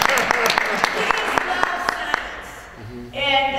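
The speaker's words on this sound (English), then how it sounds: "I give you a round of applause." Steady, evenly spaced hand claps from a small studio audience on a community TV talk show, with a voice talking over them before the clapping stops and speech takes over.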